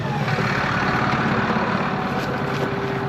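Tractor engine idling at low revs during cultivating, a steady close mechanical drone with a low rumble holding even throughout, no talking.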